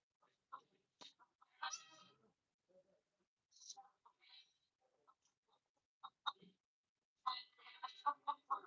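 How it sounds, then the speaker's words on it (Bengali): Local free-range chickens cluck and call around a shaded village home, giving scattered short, fairly faint calls with quiet gaps, then a busier cluster of clucking near the end. "বাড়িতে মুরগি পালে সবাই কম বেশি দেশি মুরগি"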